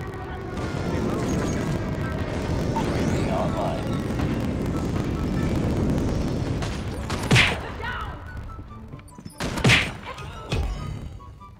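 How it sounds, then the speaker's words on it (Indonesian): Airstrike explosions and gunfire in the mobile shooter Call of Duty Mobile, a dense rattle of shots under a steady din, then two loud booming blasts near the end, over game voice callouts. "Predator missile inbound. Friendly airstrike incoming."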